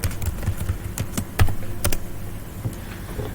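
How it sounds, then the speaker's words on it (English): Someone types a password on a computer keyboard, a string of light, close key clicks at an uneven pace with a few sharper taps and no voices. "Typing in password."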